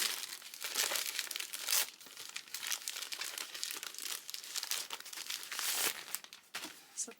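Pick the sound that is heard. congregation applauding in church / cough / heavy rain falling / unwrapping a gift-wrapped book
unwrapping a gift-wrapped book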